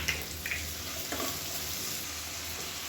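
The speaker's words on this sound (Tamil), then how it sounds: "இப்போ வெங்காயம் நல்லா ஓரளவுக்கு வதங்கிடுச்சு" Onions sautéing in a pan for kurma, a steady soft sizzle and crackle with a few faint stirring scrapes, close and unbroken, with no talking.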